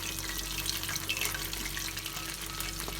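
Chicken cheese balls bubble and sizzle steadily in hot oil over a low flame, a dense continuous frying hiss with small crackles throughout, close and fairly loud, no voices.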